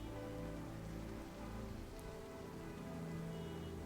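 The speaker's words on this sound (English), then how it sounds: "You can hear the birds. There's rain." Steady rainfall on surfaces in a VR game environment, a continuous soft wash of drops with a low ambient hum beneath, even and unbroken throughout.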